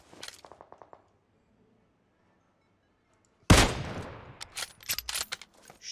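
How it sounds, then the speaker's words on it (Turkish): Gunfire in the mobile battle royale game PUBG Mobile: a short run of faint distant shots, a pause, then a loud burst of rapid automatic fire with scattered follow-up shots. "Hop, silah sesi."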